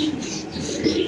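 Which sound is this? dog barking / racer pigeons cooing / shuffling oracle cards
racer pigeons cooing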